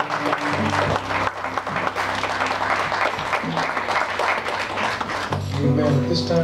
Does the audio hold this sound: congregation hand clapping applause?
yes